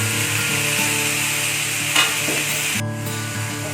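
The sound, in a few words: mixed vegetables cooking in pan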